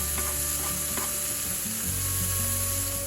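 Sliced onions hitting a hot pan beside browning burger patties, a continuous loud sizzle over a steady low hum, with a few faint clicks of a utensil.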